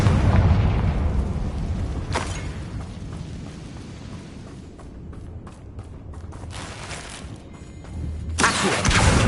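The Confringo spell explodes in a video game as a loud, deep boom that fades into a rumbling tail, with a sharp burst in the middle and another heavy blast at the end.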